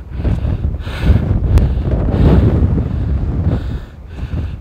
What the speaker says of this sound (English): And the wind here is so strong that it's almost blowing you off the feet.